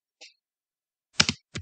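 A few keystrokes on a computer keyboard while typing in MS Word, close and crisp: one lone click, then a quick double tap and a final pair, separated by silence.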